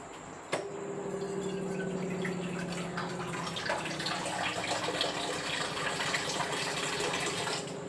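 Water is poured into a mix of semolina and ground sago for papad batter, starting with a sudden splash and settling into a steady trickling, gushing flow, close and fairly loud, with no talking.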